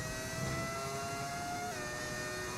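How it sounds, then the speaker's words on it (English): A high-pitched modded V10 Formula 1 engine in the F1 25 video game, at the Mexican Grand Prix, drones steadily with sharp harmonic whine, shifting pitch briefly near the end, continuous and loud. "How does your car sound like that? It's a mod. Turns your engine into a V10."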